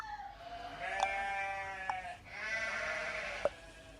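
Several sheep bleat in long, wavering calls one after another, fairly close, with a few short clicks and no talking, in the game Sago Mini World.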